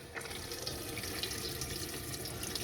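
Water runs from a tap into a sink inside a camper van, a steady close splashing stream with no talk.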